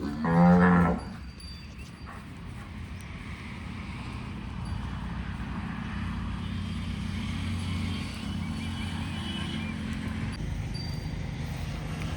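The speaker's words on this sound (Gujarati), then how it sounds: "જો અમારી ગૌ માતા કેવા આનંદમાં રમી રહી છે।" A Gir cow on a farm gives one loud, close moo at the start, followed by a steady low rumble of background noise.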